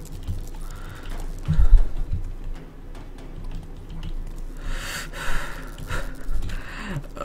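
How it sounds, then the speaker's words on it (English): Heavy breathing fills the scene during a tense moment in the F.E.A.R. 3 solo campaign, with loud gasping breaths and snorts rising and falling in an uneven rhythm over quiet background game sounds. "you're gonna hear I am breathing very heavily"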